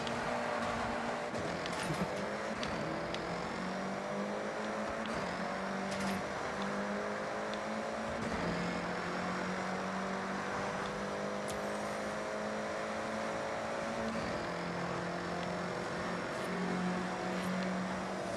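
Traffic cars drive past in Forza Horizon 6, engines humming steadily with a few rising and falling drones and faint whirring from passing vehicles, continuous and moderately loud throughout.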